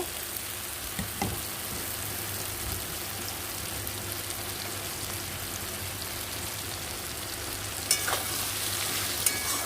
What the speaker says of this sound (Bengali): এটা আমি দু মিনিট একটু ভেজে নেব